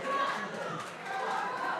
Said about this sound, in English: The crowd absolutely on their feet here